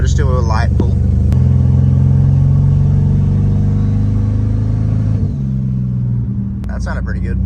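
A turbocharged BMW E46 pulls away under light acceleration, its engine tone rising steadily and loud, close up, and holding for several seconds inside the car, with a voice briefly at the start and end.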